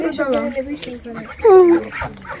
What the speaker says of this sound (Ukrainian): А чого ці гусочки тут теж з ними?